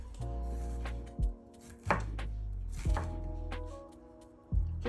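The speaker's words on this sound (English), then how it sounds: "So now I'm just going to slice these up" Bell peppers sliced with a knife on a cutting board, four separate crisp chops spaced about a second apart, close and fairly quiet over a low steady background hum.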